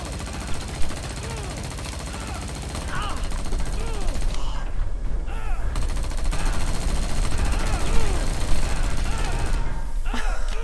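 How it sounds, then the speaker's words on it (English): A machine gun sound in the XIII Remake video game stuck in a glitchy loop, repeating rapid-fire bursts endlessly and evenly over several seconds amid other game noise. "I started getting a Rambo 6 Vegas style machine gun glitch, where a machine gun's audio would just loop over and over and over endlessly."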